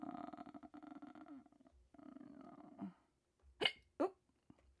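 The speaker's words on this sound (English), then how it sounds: "Here are my notorious hiccups." A person hiccupping, two sharp, close hiccups near the end following stretches of low murmuring voice and quiet background sound.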